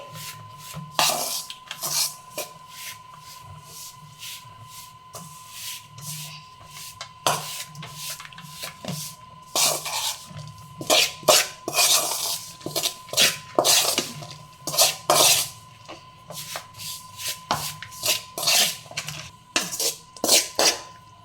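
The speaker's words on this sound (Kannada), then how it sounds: "ಚೆನ್ನಾಗಿ ಸ್ಪೂನಲ್ಲಿ ಮಿಕ್ಸ್ ಮಾಡ್ಕೋರಿ" A spoon beats and scrapes a thick milk peda mixture in a metal pot, giving repeated close clinks and rasping strokes in uneven bursts, with no talk.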